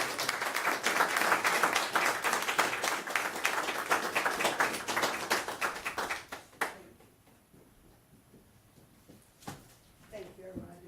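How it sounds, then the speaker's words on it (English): Applause at a commissioners' court meeting: a room of people claps steadily for about six seconds, then the clapping stops abruptly and a quiet room with faint movement and a brief voice follows. "Let's give her another round of applause."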